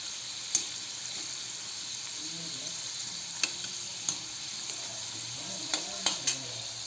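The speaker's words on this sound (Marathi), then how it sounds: "बाकीचे मोदक असे आपण तळून घेत आहोत" Wheat flour modaks deep-frying in a pan of oil give a steady, even sizzle with a few sharp clinks or taps over it, close and moderately loud, with no voices.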